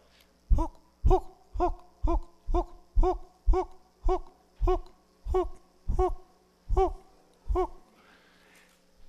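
A human voice imitates a bird call that resembles a dog, giving about a dozen evenly spaced, hoarse hooting barks in a steady rhythm, close and alone.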